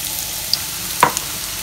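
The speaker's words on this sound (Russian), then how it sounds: "И начинаю обжарку, помешивая." Soft sizzling of onion frying in a little oil in a pan, with a light scrape of stirring in the middle.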